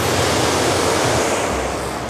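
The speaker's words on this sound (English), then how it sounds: "It's just like way louder than the ocean normally is." Ocean surf crashes near a rocky cliff, a loud, steady roar of breaking water with no voices.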